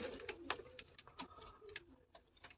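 Pigeons coo repeatedly and fairly close by, with their throaty calls rising and falling over a soft background, as the birds sit in a loft alongside nesting birds and young.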